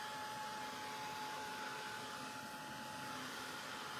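A handheld dryer blows steady, close air to dry paint on a craft project, a continuous even whoosh with no pauses and no talking.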